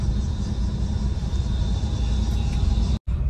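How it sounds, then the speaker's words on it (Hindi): A vehicle belching black smoke drives past on a village road near Jim Corbett, its engine a steady, close, low rumble that fills the short stretch before cutting out abruptly. "कितना पॉल्यूशन ये छोड़ते हुए जा रही है गाड़ी"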